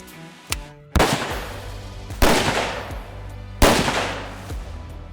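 A G2 Contender hand cannon chambered in .223 fires three loud, sharp shots about a second and a half apart, each report ringing out and decaying before the next.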